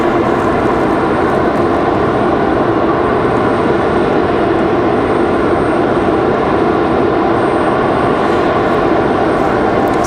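A Republic Airways jet arriving at Raleigh Durham airport passes close with a loud, constant engine roar and whine that fills the whole stretch without any voices.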